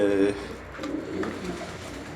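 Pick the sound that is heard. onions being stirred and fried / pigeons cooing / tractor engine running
pigeons cooing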